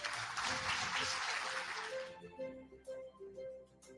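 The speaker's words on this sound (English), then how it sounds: "I want you all to give yourselves a round of applause, please." Audience applause at a health gala evening, a dense wash of many hands clapping that fades out after about two seconds, leaving quieter room sound and a voice.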